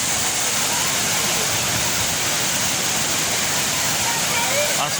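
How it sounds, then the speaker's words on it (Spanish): Water pours down the Tamasopo waterfall in a dense, continuous roar, loud and steady with no breaks, filling the whole scene like heavy rushing noise. "Se oye el golpeteo del agua al caer."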